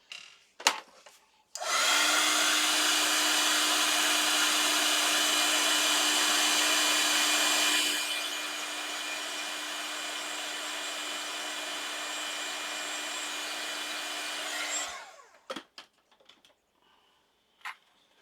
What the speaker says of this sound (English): I'm going to heat set that